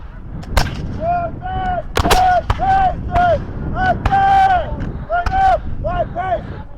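Musket volleys at a War of 1812 reenactment of Chippewa and Lundy's Lane at Fort Erie: several loud, sharp, scattered reports crack out amid shouted commands from nearby voices.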